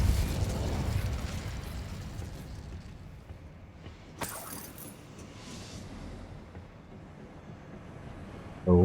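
Repulso spell blast in Hogwarts Legacy: a sharp burst with a crackling, jangling tail near the middle, among quieter magical effects and ambient game sound, then another loud hit at the end.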